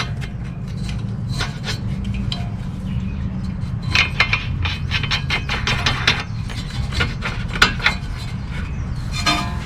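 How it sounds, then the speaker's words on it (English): Metal nuts are screwed by hand onto the threads of a front strut from a 2002 Toyota Highlander, giving close scraping and light clinking contacts over a steady low background hum. "Screwing these nuts on."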